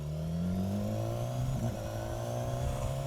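A 2016 BMW S1000 XR motorcycle at full 160 hp pulls hard with a loud, steady engine note rising in pitch as it accelerates through the gears, close and continuous throughout.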